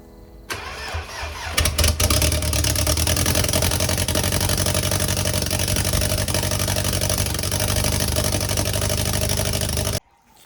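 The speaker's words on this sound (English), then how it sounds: "on the first startup, I realized that the car was having a rough idle and it was backfiring" Mercedes A45 AMG with a rebuilt M133 engine cranking and firing up, then settling into a loud, rough, uneven idle with irregular pulses, running steadily close by before cutting off abruptly near the end.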